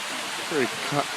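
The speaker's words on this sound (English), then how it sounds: "Right across is this very long waterfall." A long waterfall across from the Confucius Temple in China gives a steady, moderate rushing wash, with a voice briefly heard over it.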